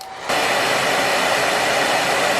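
A hair dryer switches on abruptly and blows a loud, steady rushing stream of air at painted wood, with nothing else heard over it.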